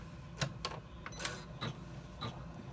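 A sewing machine runs the final seam on a zipper key fob pouch, stitching in short whirring bursts separated by brief pauses, close and fairly quiet.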